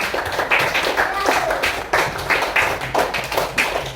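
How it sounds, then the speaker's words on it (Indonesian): Classroom clapping for two students, Maria and Tasya, during a teaching practice lesson: a loose group of hands patting in uneven bursts throughout, fairly close, with some voices mixed in. "Tepuk tangan untuk Maria dan Tasya"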